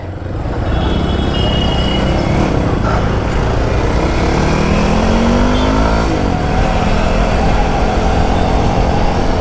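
Kawasaki KLX 230 motorcycle being ridden, its engine a loud, steady drone close by with a brief rise in revs midway, mixed with rushing wind and no talking.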